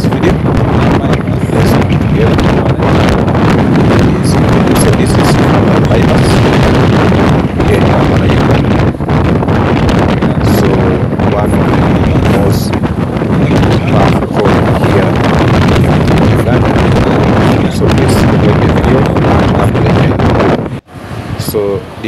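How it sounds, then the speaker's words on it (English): Strong wind buffets the microphone beside the Northern Bypass road in Kampala, Uganda, a loud, constant roaring rumble that fills the whole stretch before briefly dropping near the end. "There's a lot of wind that is blowing"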